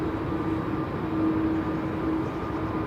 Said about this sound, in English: Ryanair on the roll from Alpha 1. EIHMY with flight 2583 to Gran Canaria, that's a max 8 on the roll.